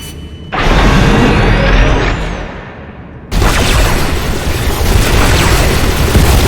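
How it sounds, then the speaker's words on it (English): Defensive cannon fire and explosions in the Star Wars The Old Republic video game, with heavy booming blasts and a sustained roar of detonations that drops briefly then surges back loud and dense. "Defensive cannons activated."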